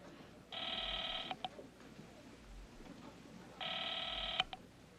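A hotel house phone rings unanswered, two long bursts of ringing about three seconds apart, each lasting under a second, clear and fairly close over a quiet room.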